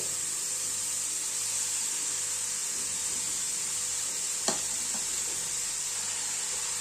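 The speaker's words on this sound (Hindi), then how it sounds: "घी जैसे ही गर्म होगा डाल देंगे 1 किलो के करीब कद्दूकस की हुई गाजर।" Grated carrots fry in hot ghee with a loud, continuous hiss and sizzle, close up and steady throughout, with one sharp clink of a utensil near the middle and no talk.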